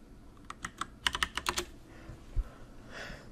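Fast typing on a computer keyboard while entering a search query, a flurry of crisp, close key clicks that slows to a few final taps, with no talking.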